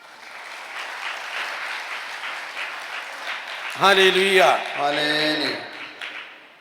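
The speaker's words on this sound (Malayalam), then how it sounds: "ഒന്ന് കൈയുറത്തി കൈയടിക്കുക" An audience claps together during a religious talk, a continuous broad wash of applause with a voice rising over it partway through.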